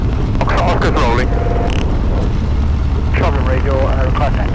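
Light aircraft engine droning through its takeoff roll on a flight to Wales, a loud steady roar with wind buffeting, while a pilot's radio calls cut in over it.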